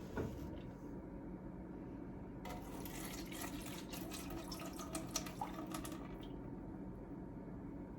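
Vinegar poured into the water of a canner, a soft splashing pour that starts partway in and runs for a few seconds over a low background hum, faint and close, with no talk.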